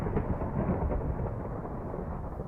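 Thunder in Minecraft rolls as a loud, continuous low rumble that stays heavy and dense throughout, with no voices.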